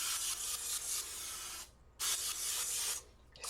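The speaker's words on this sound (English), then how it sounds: "Spray it really nice with your non-stick spray." Non-stick cooking spray hissing from a can in two bursts, each lasting well over a second with a short gap between, close and fairly quiet, with no talking.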